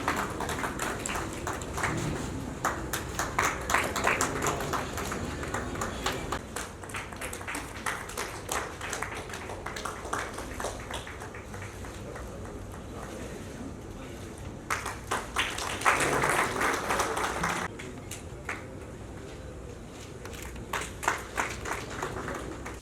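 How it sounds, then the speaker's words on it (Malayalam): Audience clapping at a traders' association annual meeting in Thalassery, Kerala, a long stretch of scattered, uneven applause in a hall that swells and fades repeatedly, with a voice speaking over it at times. "ഒന്ന് കൈയടിച്ച്"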